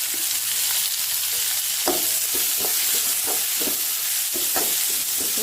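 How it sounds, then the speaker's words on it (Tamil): Onions frying in a pan, a steady hiss of sizzling oil with scattered scraping taps as a spoon stirs them, close and continuous without speech. "இப்போ நம்ம எடுத்து வச்சிருக்க வெங்காயத்தை போட்டுடலாம்."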